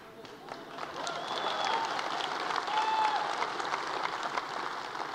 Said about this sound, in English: you bet that's worth a clap.